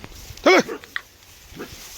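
Dogs on a Punjab farm give one short sharp bark, then a couple of fainter yips, in a quiet outdoor setting.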